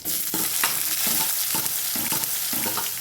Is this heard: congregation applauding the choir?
no